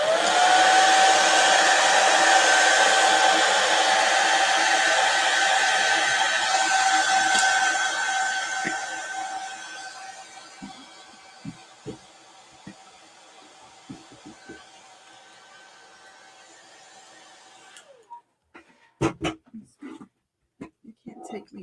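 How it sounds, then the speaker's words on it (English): A hair dryer blows with a loud, steady whirring hiss for several seconds, then shuts off, leaving quiet with scattered small knocks and clatter. "I don't know if you can hear me over the hair dryer"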